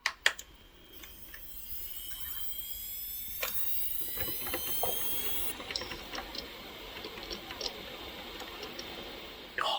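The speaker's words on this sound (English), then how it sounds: "That's the sound of a hard drive." A computer hard drive in a server being assembled from salvaged parts spins up and runs with a faint high whine, soft ticking clicks scattered throughout, and a steady low whirr, close and quiet with no talk.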